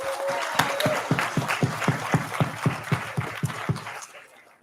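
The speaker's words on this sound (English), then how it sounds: "Can we give a round of applause for the panel again?" A small audience at a youth town hall claps for a panel, a sparse round of individual distinct hand claps at a steady rhythm, moderately close, fading out after about four seconds.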